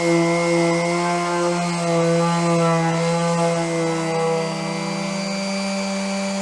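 A Stanley electric sander whines steadily with a strong tonal hum, running continuously and loud up close, used for smoothing off wood splinters.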